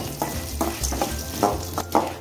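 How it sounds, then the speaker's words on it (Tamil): Urad dal, curry leaves and dried red chillies frying in hot oil in a pan, with a steady low sizzle and several clear stirring scrapes spaced through the stretch, close and moderately loud, no talking. "அது கூடவே உளுந்தம்பருப்பு, கருவேப்பிலை, அதுக்கப்புறம் காஞ்ச மிளகாய். இதை ஆட் பண்ணி நல்லா வதக்குங்க."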